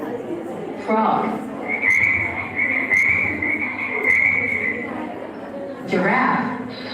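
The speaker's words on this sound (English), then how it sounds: "Frog." A frog croaking in a steady run of rough calls, close and loud, with a voice speaking over the start and end.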